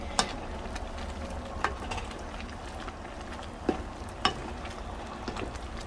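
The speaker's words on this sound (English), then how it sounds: "Now you see how the little marinated thing is already like boiling." Marinated orange chicken in a pan gives a low, steady sizzle and bubbling, broken by a few sharp clicks and scrapes of stirring.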